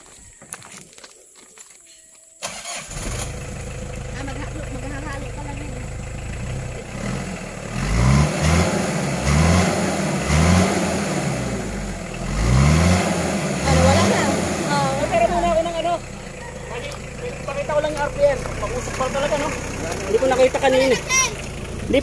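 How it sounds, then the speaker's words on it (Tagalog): A car engine revs steadily for a couple of minutes after muffler work fitted with an aero metal guard, rising and falling in surges close by, while people talk over it throughout. "So mag-rev lang tayo ng mga 1 to 3 minutes para maghalo na siya."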